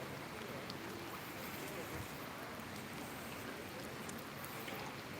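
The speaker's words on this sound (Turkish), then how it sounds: "Yağmur yağıyor şu an." Steady rain falls outdoors on the streets of Marmaris, Turkey, a dense even patter with occasional louder drops, continuing without pause throughout.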